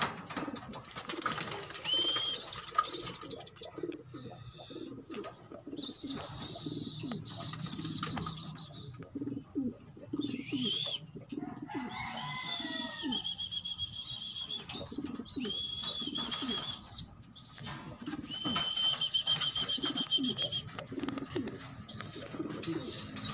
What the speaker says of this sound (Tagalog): Yan na sila kalapatids, bubaba na sila.